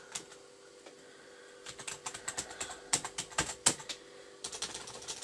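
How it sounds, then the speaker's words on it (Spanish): Someone types a password on a computer keyboard, a quiet run of quick, uneven key clicks that picks up pace after a sparse start, with a few sharper taps. "ponemos contraseña"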